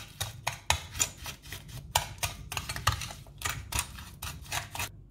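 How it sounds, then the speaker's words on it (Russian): A spoon stirs egg into sugar and salt in a bowl for kefir raspberry muffins, giving rapid rhythmic scraping and clinking strokes, close and fairly loud, with short pauses between bursts. "Сначала размешиваю ложкой."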